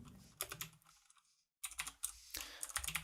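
Typing on a computer keyboard while writing C# code, quick light clicks in two short bursts with a brief pause between, close and fairly soft.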